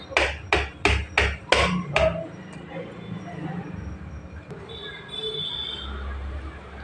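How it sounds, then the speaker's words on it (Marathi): Garlic and ginger are crushed by pounding, with six sharp, rhythmic strikes close up, followed by quieter kitchen noise and a faint voice in the background. "आता मी इथे लसूण आणि आलं थोडं ठेचून घालणार आहे"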